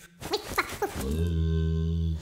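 A puppy's bark, or a voice imitating one, gives several short yelps, then a long sustained low tonal howl that holds steady near the listener, with no talk over it.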